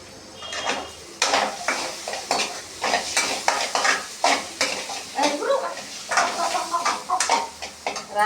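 Egg frying in a pan with fried meal maker soya chunks, a steady sizzle under repeated scraping and clinking of a spatula stirring against the pan.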